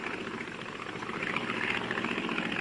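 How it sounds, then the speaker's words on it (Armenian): Steady droning rotor and engine noise from a helicopter circling overhead, continuous and fairly loud throughout, with no voices. "Էս ուղղաթիռն ինչու է դրա գլխին պտտում։"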